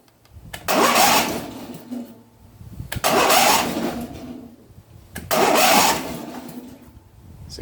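A Craftsman riding mower's engine is cranked with the key three times, each start a loud burst of roughly two seconds of churning motor noise, separated by short lulls with a low idle rumble between.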